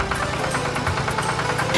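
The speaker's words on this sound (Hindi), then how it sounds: "चंदू अपने खेतों में ट्रैक्टर से जुताई करता है।" Tractor ploughing farm fields in an animated Hindi cartoon: a loud, continuous engine drone with a low, throbbing rumble and a steady rhythmic chug, with no talking.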